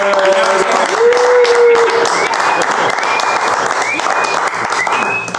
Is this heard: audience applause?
yes